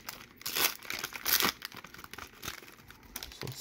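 Panini baseball card wax packs are torn open from the top down, giving close crinkling and ripping of wrapper paper in a few loud bursts followed by quieter rustling.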